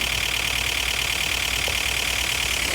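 Racing car engines from an iOS racing video game hum steadily at idle, a constant synthetic drone with a bright high band and low throb, loud and unbroken with no voices.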